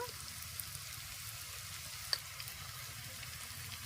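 Onions with ginger-garlic paste fry for a mutton curry, giving a faint, steady sizzle in the pan with one small pop and no talking.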